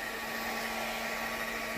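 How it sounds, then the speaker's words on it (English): A heat gun blowing hot air to dry watercolor paper, a steady whooshing drone with a constant hum, unbroken and close throughout. "a heat gun, which is what I have because I used to use it for rubber stamping"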